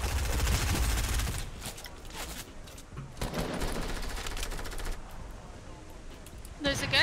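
Gunfire in a Fortnite squads match rattles in dense bursts throughout, loud at the start and again near the end, mixed with game noise and players talking.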